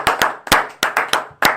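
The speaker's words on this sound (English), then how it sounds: "Let's give her a round of applause." A small group claps after a podcast interview: about seven sharp, separate hand claps in a loose, uneven rhythm, close and loud, with no talking.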